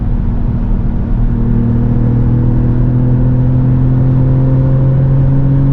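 Interior drive of a 2025 Mercedes AMG GLE53 hybrid coupe facelift at speed on a German road: a loud, steady low engine drone with sustained tonal hum and road rumble, no talking.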